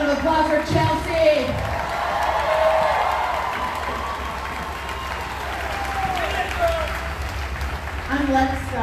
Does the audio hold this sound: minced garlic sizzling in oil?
no